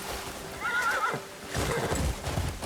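A horse in the Crimson Desert video game whinnies loudly once, then trots off with a run of rapid hoofbeats, close and clear, with no talking.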